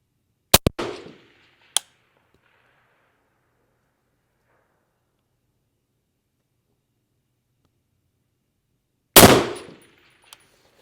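Long-range 6.5 Creedmoor rifle shots ring out: a sharp crack with a second report at the start, another single shot soon after, then a long quiet gap before a final loud blast with a trailing echo.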